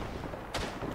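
Gunfire in the video game Battlefield 1 on the Tannenberg map, a short distant burst of shots and booming reports over rumbling battlefield noise, faint and brief.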